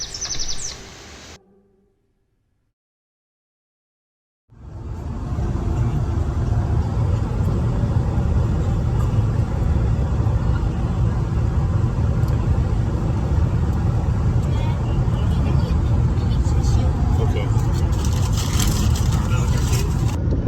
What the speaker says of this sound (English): there's a traffic jam up ahead